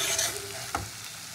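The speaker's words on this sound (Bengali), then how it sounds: "আলু ফুলকপি মশলাতে একবারে কষিয়ে নেবো।" Fried potato and cauliflower sautéed in a spice masala, a short burst of close, bright sizzling with one quick scrape of a spatula, no voices.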